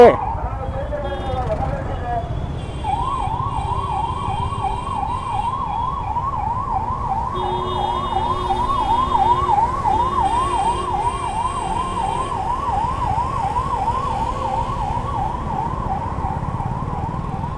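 An emergency siren wails in a rapid, repeating up-and-down pattern over rumbling traffic noise on pothole-ridden Bengaluru streets, fairly close and steady for most of the stretch.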